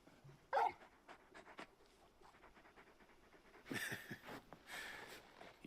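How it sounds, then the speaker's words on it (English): A large dog in the video game Final Fantasy XVI pants softly and rhythmically in the background, with a few faint louder breaths mixed in. "You're just a big puppy, aren't you? A very big puppy."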